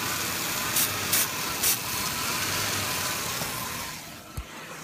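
A car engine with a vacuum leak at the PCV valve gives a steady broadband hiss and rush throughout, broken by a few brief bursts of spray-like noise and a short thump near the end.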